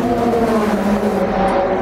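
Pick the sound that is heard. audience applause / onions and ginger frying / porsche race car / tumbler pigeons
porsche race car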